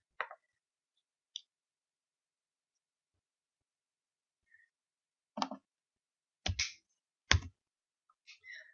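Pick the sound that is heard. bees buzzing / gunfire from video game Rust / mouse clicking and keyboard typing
mouse clicking and keyboard typing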